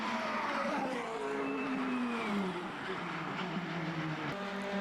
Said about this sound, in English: The single-seater showing its cornering ability on the hairpin.